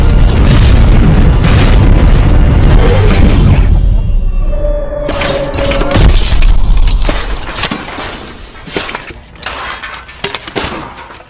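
Loud, continuous explosions in a movie scene as a stockpile of weapons burns in a desert cave area, deep booms and crackling bursts rolling over each other and then easing into scattered debris crashes.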